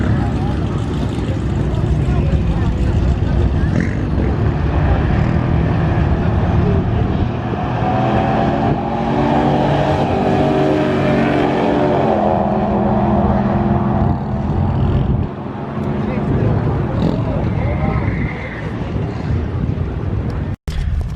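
A tuned Hemi Ram truck launches hard down a drag strip, its V8 roaring loudly and building through rising gear pulls, with heavy wind buffeting and a voice speaking over the engine.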